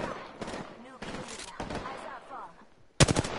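Bursts of automatic gunfire ring out in the Apex Legends battle royale game, several short rapid volleys separated by pauses, with a loud close burst at the end and a voice talking between shots.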